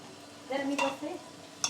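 Masala is stirred in hot oil for a potato and green pea bhaji, giving a short, quiet run of scraping strokes over a faint sizzle and ending on a light tap.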